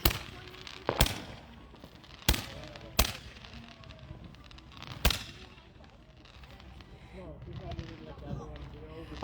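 Sharp New Year firecracker bangs pop at irregular intervals, several in a row, echoing from a distance while voices talk in the background.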